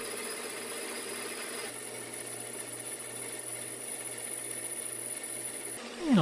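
Metal mandrel turned down on a lathe to remove excess material, a steady machine whir with a high whine holding throughout, changing tone partway and stopping abruptly at the end.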